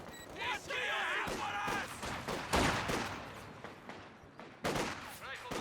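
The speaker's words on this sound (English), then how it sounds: "They're being fired upon." Bursts of gunfire and rifle volleys ring out in a Company of Heroes 2 battle, clustered shots mixed with explosive cracks and game effects, loud and near, with a voice commenting over parts of the action.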